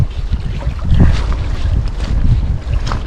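Wind roars across the microphone at sea aboard a small boat out collecting mussels, a loud steady rumble with gusty swells and no talking.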